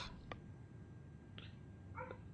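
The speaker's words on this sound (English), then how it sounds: "That's my dog barking in the background" A dog barks faintly in the background of a quiet room, a few short, distant barks spread out over a soft steady hum.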